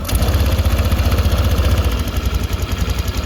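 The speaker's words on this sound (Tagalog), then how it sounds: "parang may kumakatok or nagkikiskisang bakal o parang helicopter o typewriter na tunog kagaya nito" Motorcycle engine idling with a worn cam chain tensioner, giving a steady, fast rhythmic knocking and metallic ticking close up, with no talk.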